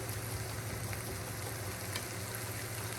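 Garlic frying in a pot for chicken curry, a steady close sizzle and crackle with no talking.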